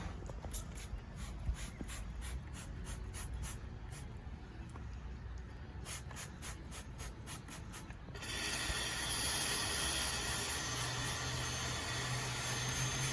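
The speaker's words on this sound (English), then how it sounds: "My neighbor's doing his daily yard trimming, yard work." A power yard-trimming tool runs in a neighbor's yard. It kicks in partway through as a steady, droning, mid-distance whine and keeps going, replacing a quieter stretch of rhythmic ticking.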